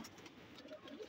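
A Kalpotiya pigeon coos softly at close range, a few low, gentle murmuring calls in a quiet setting.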